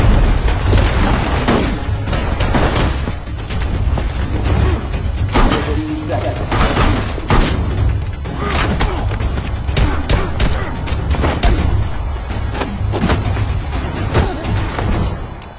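Dense video game combat with gunfire bursts and booming explosions rolling one after another, loud and chaotic, while a voice talks underneath.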